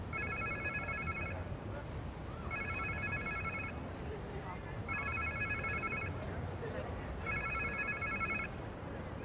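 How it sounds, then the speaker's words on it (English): A phone rings in four evenly spaced bursts of electronic trilling, steady and moderately loud over a dull background hum, in the video game Marvel's Spider-Man 2. "Sounds like somebody's phone."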